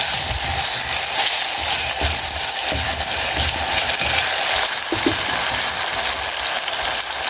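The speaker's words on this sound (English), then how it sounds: "So at this point we are frying" Continuous loud sizzling and crackling from goat meat frying in a pot, a dense hiss with faint clinks and no talking.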